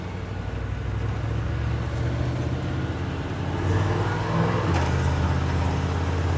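A car fitted with a Holley carburetor drives on a short test spin, its engine a steady low droning rumble heard from inside, rising slightly partway through as the throttle opens.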